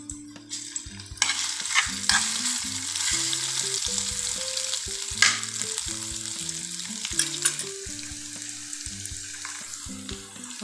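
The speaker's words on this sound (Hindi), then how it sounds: "तेल हमारा तकरीबन गर्म होना शुरू हो गया। अभी जो हमने लहसुन अदरक का पेस्ट बताया था आपको 2 चम्मच, ये अब हम इसमें ऐड कर देंगे।" Two spoonfuls of garlic ginger paste frying and being stirred in hot oil for chicken karahi, a steady sizzle with stirring scrapes, close and continuous, with music playing throughout.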